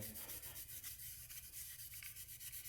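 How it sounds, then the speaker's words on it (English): A Scotch-Brite pad is rubbed over a wooden pistol-kit stock to knock down raised grain, making faint, steady back-and-forth scuffing strokes close up at a quick, even rhythm. "You just take your Scotch-Brite or your steel wool or your sandpaper and you just knock all the fuzzes down to where it's smooth again"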